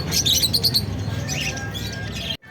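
Budgerigars at a bird market in Garia give off a busy chorus of high chirps and twitters, loud and close, over a steady background crowd din before cutting off abruptly.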